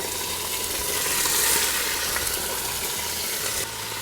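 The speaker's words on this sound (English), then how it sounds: "we're gonna go ahead and sear it off" Alligator meat sears in a preheated pot with a little oil, a loud, steady sizzle and crackle filling the space close by, cutting off abruptly near the end.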